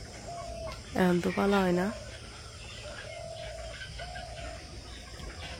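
A village rooster crows once in a loud, stepped call early in the morning. A faint, drawn-out clucking call follows twice, and a person speaks after the crow.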